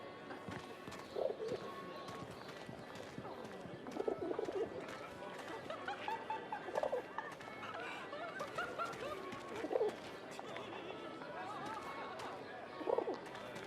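Pigeons coo in short repeated bursts inside a Paris café in 11-11: Memories Retold, soft and mid-distance under steady café murmur and background chatter.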